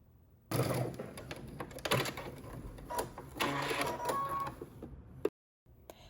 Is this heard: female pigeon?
no